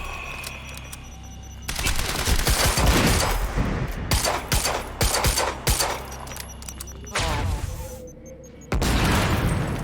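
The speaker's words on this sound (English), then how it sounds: "Throwing a grenade!" Explosions and gunfire in a Quantum Break firefight: a thrown grenade detonates amid loud, dense bursts of shots that rumble on for several seconds, with a brief lull before another heavy barrage.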